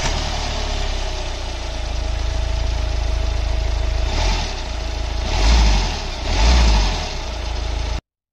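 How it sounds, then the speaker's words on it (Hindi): A Hyundai i20 1.5-litre four-cylinder diesel idles steadily up close, its clattering hum swelling in two brief revs before cutting off at the end. "चार सिलेंडर का ये इंजन है और स्टार्ट होता है तो कैसी आवाज़ आएगी वो भी मैं आपको सुना देता हूँ"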